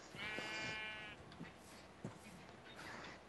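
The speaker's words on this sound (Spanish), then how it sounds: "Me encontré una oveja negra, la vamos a pelar." Sheep bleating in Minecraft, one clear wavering bleat up front followed by faint scattered game sounds and soft clicks, with no talk.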